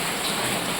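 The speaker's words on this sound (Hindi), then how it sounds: "वर्षा होजी वर्षा होजी" Rain falls in a steady, dense hiss of drops with no pauses, close and fairly loud.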